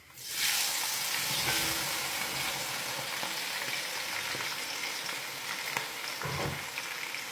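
Chopped onions and spring onions frying for a spinach stew, a steady loud sizzle in hot oil from start to finish, with faint stirring scrapes and no voices.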